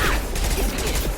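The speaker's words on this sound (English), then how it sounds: "Concussive shot." Concussive shot ability fired in the video game Mass Effect 2, a short burst of clattering mechanical impact and crash sounds over busy combat noise.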